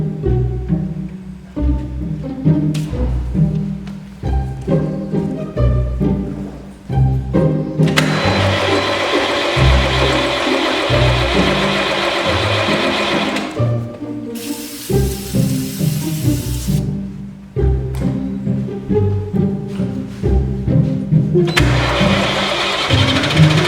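Diesel bus engine cranks repeatedly after the lift pump is primed, with loud, rhythmic starter churning in several long bursts and a hissing, spraying noise between attempts, close by with no talk.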